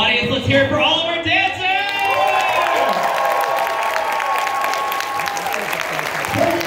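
A crowd at a dance competition claps and cheers for the dancers, a dense, steady wash of applause with whoops and shouting voices over it.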